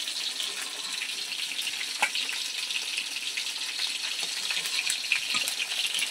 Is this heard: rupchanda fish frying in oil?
yes